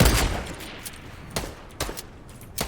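Gunfire from shooting enemies in Fortnite, with an opening burst followed by a few sharp, separated shots over a quiet background, no talking.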